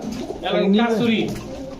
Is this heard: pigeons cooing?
yes